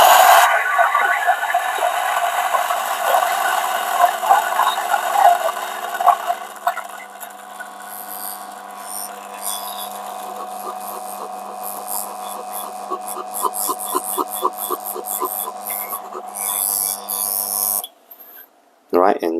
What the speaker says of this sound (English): I'm going to grind directly into the cup